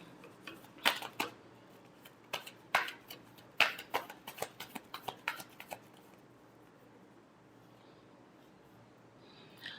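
Tarot cards being shuffled by hand, a quick series of crisp riffling snaps and flicks for several seconds, then quiet room tone.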